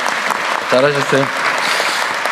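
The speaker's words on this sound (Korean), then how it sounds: "박수 한번 칠까요?" Audience applause at a Korean government briefing, continuous clapping from a room of people filling the whole moment, with a man's brief spoken remark over it.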